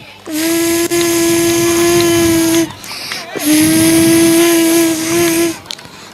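A voice imitates a bee during a mimicry act at an annual day event, with two long, steady buzzing hums separated by a brief pause, loud and close.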